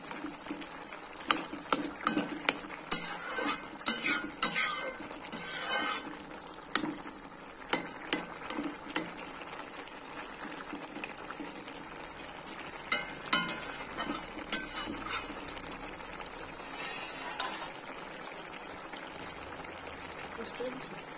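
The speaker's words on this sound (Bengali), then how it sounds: "এবার একটু নেড়ে দিচ্ছি, নেড়ে দিয়ে এই যে আলুগুলো একটু ভেজে দেবেন।" Potatoes and beans fry in a pan for a long stretch, with a continuous crackling sizzle broken by frequent rhythmic scrapes and clacks of a spatula stirring, all close and fairly loud.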